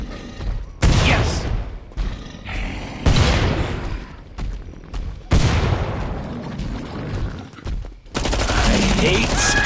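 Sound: gunfire in the video game Killing Floor 2

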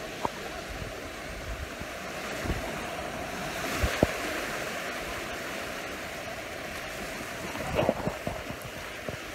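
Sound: ocean waves on rocks

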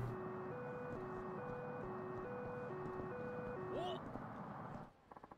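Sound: ambient car passing, from video game Yakuza 3 Remastered

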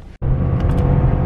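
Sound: car driving fast

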